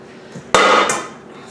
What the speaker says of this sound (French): je pose le cercle à l'intérieur